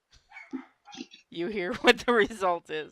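A young dog gives a run of short, yippy, unpracticed barks and whines close by, mixed with a person talking over them.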